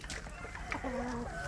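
A free-range village hen clucks softly beside her chicks while brooding them, a few short low clucks and faint peeping close by over a steady background.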